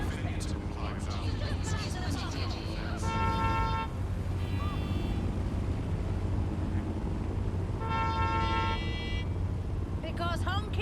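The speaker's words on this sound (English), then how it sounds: "Because honking solves everything." Car horns honk in Watch Dogs Legion gameplay, several sustained blasts set against steady traffic and city noise, with a voice talking over the scene.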